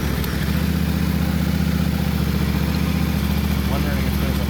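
A Yamaha Tenere 700 motorcycle engine runs close and loud, with a steady low throbbing drone that holds throughout without a break.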